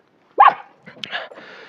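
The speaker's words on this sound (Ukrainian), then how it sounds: "А, пес бавитися хоче зі мною." A dog eager to play gives one sharp close bark, then a short yip and a soft whimpering whine, outdoors in a frozen winter yard.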